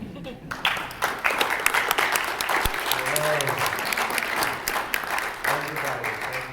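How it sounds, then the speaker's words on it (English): Crowd applause at a conference panel, bright, dense clapping rising quickly and holding steady throughout, with a few voices mixed underneath. "thank you so much for the applause"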